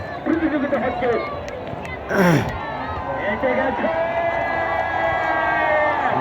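A huge riverside crowd of thousands roars and cheers at a boat race final beneath the Teesta bridge at Haripur, a dense continuous hubbub with whoops rising briefly partway through.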